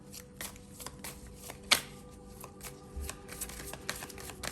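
Triple Goddess Tarot cards shuffled by hand, a soft continuous riffling and sliding with one sharper snap partway through, close and quiet with no talking.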